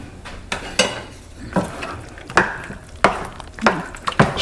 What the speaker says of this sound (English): here we're going to add the shrimp to it